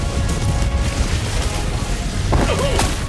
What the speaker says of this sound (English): Orbital barrage incoming